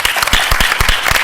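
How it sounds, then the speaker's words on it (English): Brief, sparse applause from a small panel audience, with a handful of distinct hand claps sounding close by in quick, uneven succession. "we should all give a quick round of applause to all the papers"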